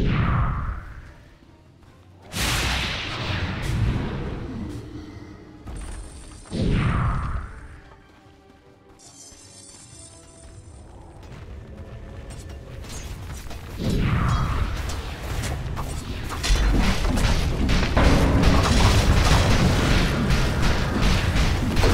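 Dota 2 game audio plays with heavy booming impacts and crashing hits as towers are attacked, dense layered combat effects rising and falling, with no talk.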